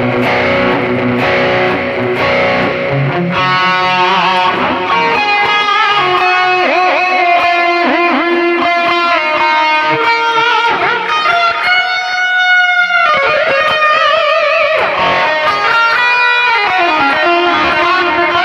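Heavily distorted 1980s-style lead electric guitar through a Boss eBand JS-10, loud and continuous with sustained melodic notes, bends and fast runs over a dense backing.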